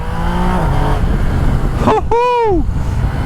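A Yamaha Niken three-wheeled motorcycle accelerates hard, its engine note climbing loud and close, then cut off sharply by a quickshifter upshift before the revs rise again in the next gear.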